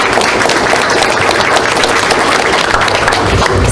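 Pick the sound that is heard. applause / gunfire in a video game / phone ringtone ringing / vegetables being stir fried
applause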